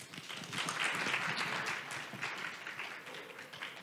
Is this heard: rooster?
no